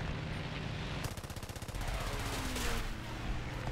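Rapid machine-gun fire from biplanes in a War Thunder dogfight, featuring Swedish aircraft: a dense, continuous rattle of bursts with a clearly pulsed stretch in the middle, loud and close over steady engine drone.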